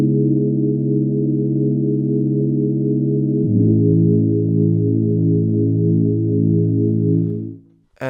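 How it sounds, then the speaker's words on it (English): A smooth, pure sine-wave synth tone from Serum 2 holds steadily, then glides down to a lower pitch and sustains before fading out. "With the sine wave, it sounds like this."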